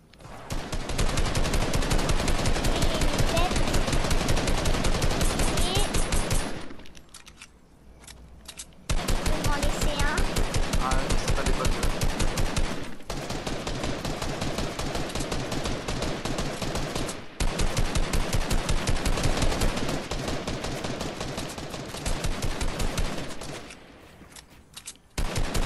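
Sustained rapid gunfire from a first-person shooter video game in duo mode, dense bursts of shots filling most of the stretch with a few brief pauses, loud and close, with players talking.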